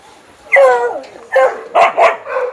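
A white male husky barks close and loud, several sharp yelping barks in quick succession over a couple of seconds.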